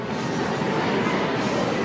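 An amusement park train at Kennywood gives a steady, close rumble and rattle of wagons rolling along the track, loud and unbroken for about two seconds with no talking.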